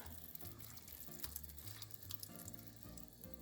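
Keto meatballs frying in a pan, partly covered: a faint, steady sizzle with scattered small pops and soft stirring noises, no voices.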